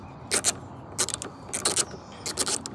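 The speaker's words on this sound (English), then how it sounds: "you need your socket wrench, and you need a 13mm. Just unscrew the top of" A 13mm socket wrench loosens the wiper bolt under the plastic wiper tray on a Smart Roadster, heard as short bursts of close, bright ratcheting clicks repeating in an uneven rhythm.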